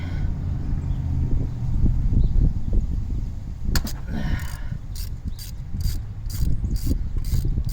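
A ratchet wrench strains against a stuck spark plug on a Subaru engine, with low grinding mechanical effort followed by a quick series of sharp ratcheting clicks near the end, close and without speech.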